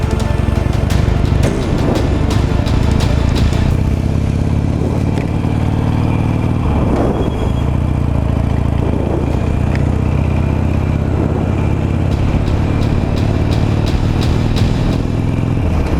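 A 17-year-old Harley Davidson Nightster motorcycle rides through traffic on a New Year's run, its loud, steady engine drone filling the whole stretch with a few brief clatters and rev swells, and no talking.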